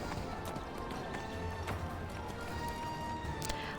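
Hoofbeats of a striped horse mount in the video game Neverwinter, a steady clip-clop rhythm running throughout, mid-distance over a busy bed of game ambience and music.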